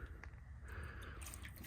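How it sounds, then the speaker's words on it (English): Water poured onto a car door coated with MOHS ceramic coating, running off the panel in a soft, close splashing trickle with brief drips, quiet and steady with no talk. "when I pour water on the MOHS, it just drops"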